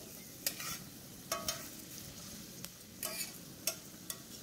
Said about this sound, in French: le steak ne doit pas rester trop longtemps dans la poêle. Ça continue à flamber